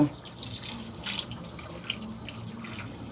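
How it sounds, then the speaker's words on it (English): Tap water running into a pot holding a pig's tail cut into bite-size pieces, for Jamaican stew peas: a steady close splashing hiss that carries on with no break. "So I'm getting some water on it"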